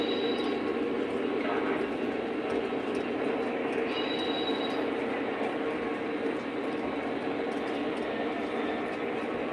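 Train passing on a Conrail line, a steady loud rumble of rolling wheels with faint metallic squeals and rail clatter, continuous throughout.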